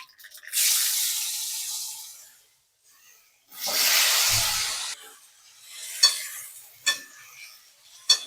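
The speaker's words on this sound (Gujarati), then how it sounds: "હવે બટેકા નાખી દેશું." Potatoes go into hot oil already seasoned with cumin seeds, asafoetida and curry leaves, setting off two loud, close bursts of sizzling. Sharp clinks of utensils on the pan follow.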